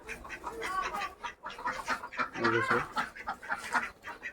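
Chickens cluck repeatedly in short, choppy bursts, nearby and moderately loud, with a few louder squawks in the middle.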